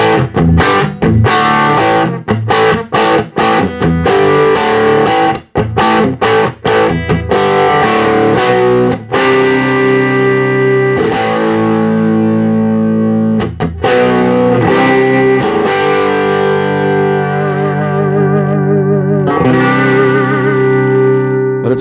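Electric guitar played through a 1976 Fender Vibrolux Reverb amp with the volume pegged, giving a loud, gritty, slightly toothy tone; strummed chords and ringing notes run continuously with no talking.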